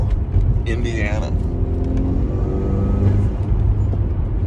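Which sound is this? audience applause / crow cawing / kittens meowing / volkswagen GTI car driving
volkswagen GTI car driving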